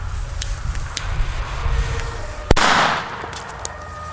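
A single sharp Chinese firecracker bang cracks out nearby, followed by a brief crackling hiss, over a low outdoor rumble.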